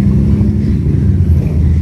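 A heavy debris truck hauling a big trailer rolls past on a residential street lined with storm debris, a steady loud low rumble of engine and tires close by, with no talk.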